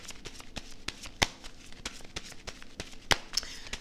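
Tarot cards being shuffled during a reading: a string of quick, crisp riffling clicks and soft slaps close by, with a few sharper snaps standing out in an otherwise quiet room.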